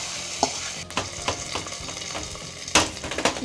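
Hot spiced tempering hits a pot of masaledar khichdi with a loud sizzle and frying crackle, followed by steady stirring scrapes and clinks close up, with no talking.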